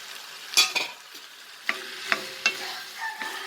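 Potato and tomato sautéing in a pan for egg curry: a soft, steady sizzle broken by several distinct scraping stirs of a spoon against the pan, close and fairly quiet.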